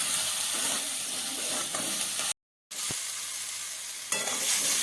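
Bitter gourd curry with lentil bori, mustard and salt sizzles loudly in a pan, the hiss steady and close, broken once by a brief drop to silence before the frying resumes.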